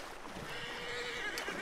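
A horse in Red Dead Redemption 2 lets out a drawn-out whinny, moderately loud, over a low background wash, with no talk over it.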